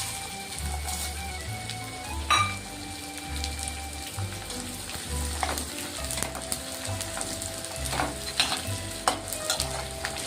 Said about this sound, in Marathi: डिंक तळतोय आपण आता